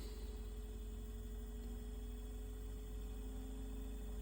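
A replacement blower motor running on an Eberspacher Airtronic D2 diesel heater, a steady low electric whir and hum, even and continuous throughout.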